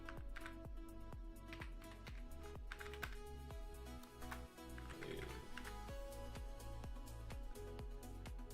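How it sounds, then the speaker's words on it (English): Typing on a computer keyboard at a day-trading desk, a steady run of quick clicky keystrokes close to the microphone with faint background sound and no speech. "I'm just typing that in the chat"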